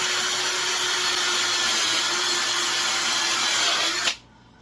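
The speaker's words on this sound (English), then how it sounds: "Drill on medium pace, and let's start buffing." An electric drill spins at medium speed with a buffing attachment, polishing the finish on a handmade bass guitar body; a steady loud whir runs alone, then cuts off abruptly near the end.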